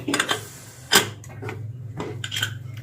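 A pressure cooker of arhar dal is twisted open with a few close metallic clanks and scrapes, one sharp knock standing out among quieter rattles.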